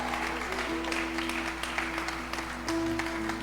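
A church congregation breaks into applause during a sermon, a moderate wash of clapping from a crowd held under a sustained musical drone, with a few sharper claps standing out.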